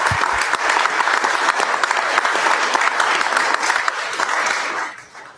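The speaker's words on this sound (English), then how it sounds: "So let's give these girls a round of applause." Audience at a city council meeting giving sustained applause for a group of girls, a dense, even roar of many hands clapping that holds steady for several seconds before tapering off.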